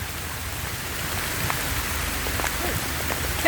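Hail patters steadily on a surface outdoors during a bikepacking ride, a dense continuous rattle of small impacts heard close by with no talking over it.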